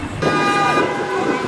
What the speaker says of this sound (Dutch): Al die auto's toeteren naar binnen